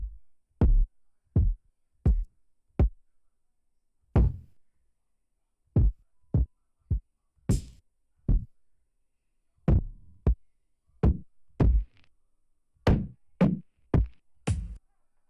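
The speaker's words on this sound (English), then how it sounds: "Let's go through the kicks." A series of separate punchy kick drum hits plays one after another, each a deep thump with a short decay and gaps between them.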